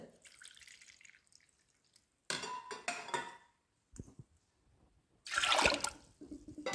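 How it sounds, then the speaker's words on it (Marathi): Water splashes and pours in short bursts into a metal pot of dal for dal tadka, with a few clinks of cookware and quiet pauses in between. "पाणी ओतते याच्यात."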